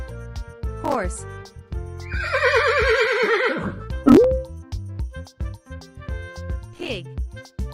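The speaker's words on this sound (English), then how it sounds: "Horse." A horse whinnies close and loud, a shrill quavering neigh over an ongoing musical backing, with a voice speaking briefly and a few clip-clop-like knocks.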